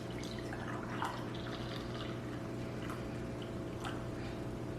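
Steeped basil leaf tea being poured, a faint, steady liquid trickle with soft splashes over a low background hum, quiet and continuous throughout.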